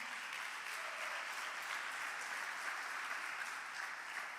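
A church youth-service audience applauds in a steady, dense wash of clapping that stays even and sustained throughout, heard at a distance with no voices over it.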